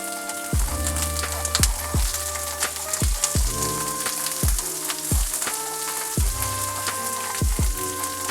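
Asparagus sizzles in a hot pan seasoned with salt and pepper, a steady crackling fry sitting under louder background music with repeating falling tones.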